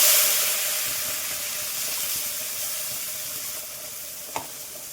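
A masala paste of onion, tomato, ginger, garlic, coriander and curry leaves sizzles continuously in hot oil, a steady close hiss with faint stirring and a single small knock near the end.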